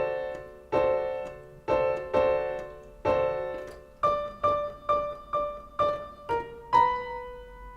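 A piano plays the last two measures of a song, about a dozen close, clear struck notes and chords in a bouncy rhythm, a short pause midway, ending on a held chord with no talk.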